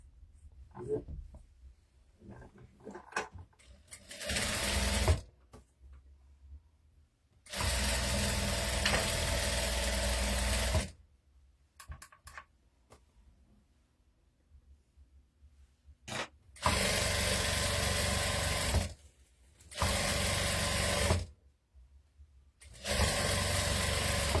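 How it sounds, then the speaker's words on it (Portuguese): Sewing machine stitching a fabric cap, running in several loud bursts of a few seconds each, separated by quieter stretches of handling and rustling. "Pronto, já costurei aqui a minha touca."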